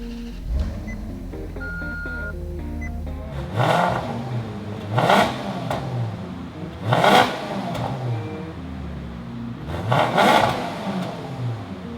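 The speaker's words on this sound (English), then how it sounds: "how about I go ahead and start it so you can hear what it sounds like" A 2008 Maserati GranTurismo engine cranks and starts, then revs sharply four times with a rising wail between idle stretches, close by.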